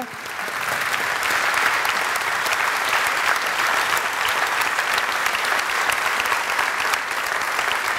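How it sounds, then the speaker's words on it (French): Studio audience applause thanks the guests at the close of a televised discussion program, a dense, even wash of clapping that holds steady and loud throughout with no voices over it. "qu'on remercie peut-être par quelques applaudissements les invités de cette émission."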